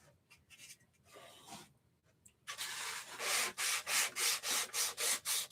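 Wood being sanded by hand up close: a few soft scattered strokes at first, then loud, regular back-and-forth rasping strokes in a steady rhythm.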